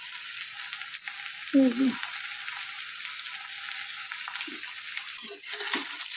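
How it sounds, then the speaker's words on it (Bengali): Vegetables and spices including turmeric and chili powder sauté in a pan in a village kitchen, a steady frying hiss with brief stirring scrapes and a short spoken phrase. "সব কিছু দিয়ে কষায় নিব।"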